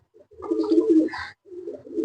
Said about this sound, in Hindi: असील कबूतर है।